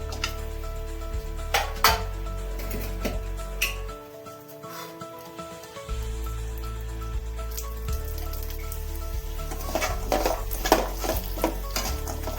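Grated coconut is dry-roasted in a pan with a soft, steady frying hiss under repeated scraping and stirring strokes, pausing briefly partway through.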